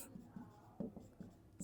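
Pen or pencil scratching across paper while a math solution for sets is written out, short soft strokes in irregular bursts, quiet and close.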